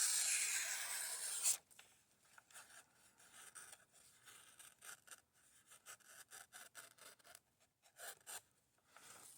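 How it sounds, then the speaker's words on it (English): An Elmax steel blade on a Vosteed Mini Psyop knife slices through notebook paper. A loud rasp opens the passage, then a string of quick, dry scraping strokes follows, close by and fairly quiet. "this notebook paper is significantly harder to get a clean cut on than the printer paper"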